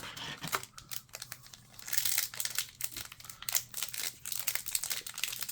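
A Magic: The Gathering Secrets of Strixhaven play booster wrapper being torn open by hand, with a run of close crinkling, crackling foil and short tearing bursts that stop and start unevenly.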